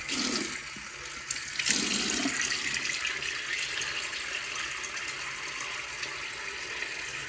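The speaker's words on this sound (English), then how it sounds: "Let me get my face wet." Water runs steadily from a tap for several seconds as a face is wetted before a shave with a badger brush, a broad continuous splashing hiss with a brief gush near the start and no talking.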